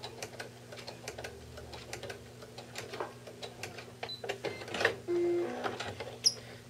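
A sewing machine stitching a quarter-inch seam while attaching a finishing binding on a quilt, with rapid ticking needle strokes throughout and a brief louder motor burst near the end, fairly close and with no talk.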